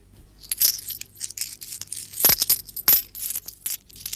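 Coins drop into a piggy bank (gullak) as small change is saved, giving a few bright metallic clinks and rattles spread across a few seconds with quiet pauses between them.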